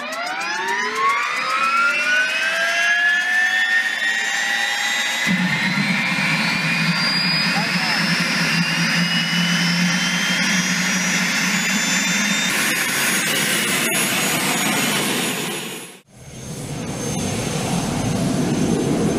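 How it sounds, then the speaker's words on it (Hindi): An expensive motorcycle's engine starts up with a rising, jet-like whine that climbs steadily and holds a loud, shrill roar, then cuts out briefly before the high whine returns. "बाइक का स्टार्टअप भी बिल्कुल एक जेट प्लेन जैसा ही होता है"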